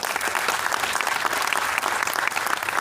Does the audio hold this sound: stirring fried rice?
no